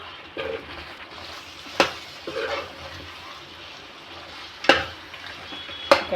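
Chicken masala fries in a pan as turmeric and chili powder go in, a soft steady sizzle broken by a few sharp stirring scrapes and clinks against the pan.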